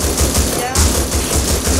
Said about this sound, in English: I'm by the gunshots.